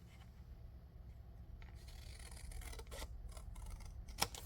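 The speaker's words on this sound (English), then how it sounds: "I'm going to cut this ruffle off the side." Scissors snip through pink silk fabric to cut a ruffle off the side of a belly band, giving a few soft, close cutting strokes with one sharper snip near the end.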